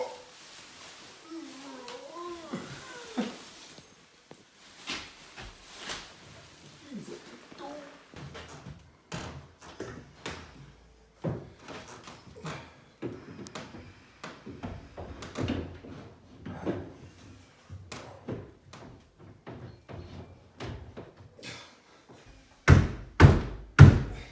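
An MDF shaker wardrobe door is opened and closed several times during fitting, giving repeated knocks, thunks and creaks, with brief talk and a louder cluster of bangs at the end.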